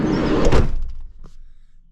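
A camper van door shuts with a heavy thud and rattle, followed by a faint click and quiet settling.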